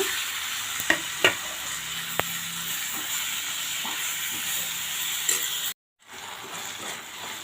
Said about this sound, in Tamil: நம்ம கட் பண்ணி வச்சுருக்கிற தக்காளியை சேர்த்து நல்லா வதக்கிக்கலாங்க